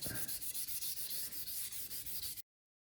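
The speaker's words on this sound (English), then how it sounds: "it's just a case of sanding it" Rhythmic back-and-forth sanding strokes rub against an oiled wooden bass guitar neck, steady and close, about a dozen passes before stopping abruptly.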